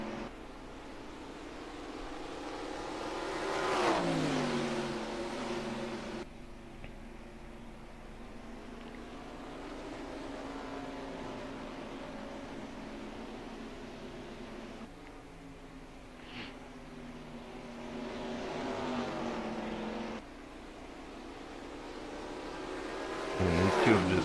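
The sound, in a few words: race trucks racing at Nashville Fairgrounds, Truck Series race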